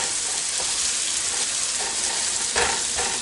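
Vegetables for Chinese fried rice frying on a high flame, a loud, dense, continuous sizzle close up, with a few faint stirring scrapes and no voices.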